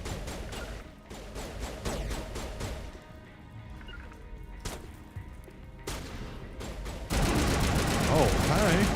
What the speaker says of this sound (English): Who are we shooting at?